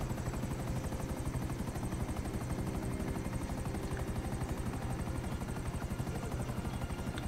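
Helicopter in GTA Online, a steady loud rotor chop with fast regular blade pulses and engine whine, continuous and close, no talk over it.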